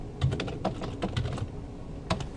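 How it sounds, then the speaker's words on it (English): Arrow keys and the enter key on a computer keyboard are pressed in a scattered run of crisp, close clicks and taps, some quick pairs and a firmer final press, with no talking. "I just hit down on my arrow keys and then hit enter"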